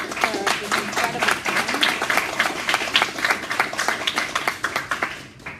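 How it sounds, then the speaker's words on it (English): An audience claps for panel speakers and their moderator at a veterans' MBA panel event, a dense, steady round of applause that continues for several seconds before tapering off at the end. "I kind of want to give a quick a round of applause to our incredible panelists and to our moderator"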